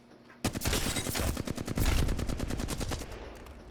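Loud, steady burst of rapid automatic fire from a gun in Apex Legends, starting abruptly and running as evenly spaced fast shots for about two and a half seconds before tapering off.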